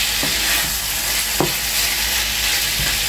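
Chicken wings with sugar and black pepper sizzle in a frying pan as they are stirred, a steady close hiss broken by a few soft scraping strokes.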